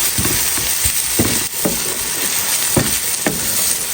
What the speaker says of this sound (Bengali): শুকনা মরিচ ভাইজা নিতেছি আর রসুনটা দিয়ে দিব এখন আর রসুনগুলো ভাইজা নিতেছি